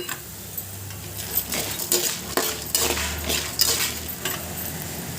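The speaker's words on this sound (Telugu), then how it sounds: "ఒక రెండు మూడు స్పూన్లు మినప్పప్పుని వేసుకోండి కొంచెం గోల్డెన్ కలరు వచ్చే వరకు బాగా వేగనివ్వండి" Urad dal fries in a pan while a spoon stirs it, producing repeated close scraping and clinking strokes over a low sizzle, with no voices.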